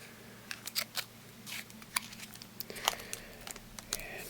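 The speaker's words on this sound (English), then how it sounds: "I'm going to just be slicing open the top." A blade slices open the top of a Pokemon card tin, giving off soft, close scraping and cutting clicks in an irregular pattern along with faint crinkling, all quiet with no talking.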